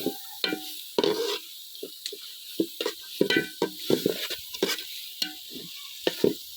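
Meat for a fried-rice biryani is stir-fried in a pan, with repeated scraping spatula strokes in an uneven rhythm over a faint sizzle, close and clear.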